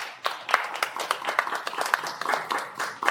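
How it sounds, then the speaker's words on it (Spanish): One person claps by themselves at a steady, moderate pace, a run of about a dozen close, sharp claps with faint talking underneath. "regálate un aplauso a ti misma"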